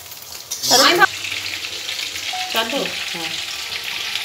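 Rice ingredients being tipped into hot ghee and stirred, a loud burst of sizzling at first that settles into a steady frying hiss, with a voice talking briefly partway through.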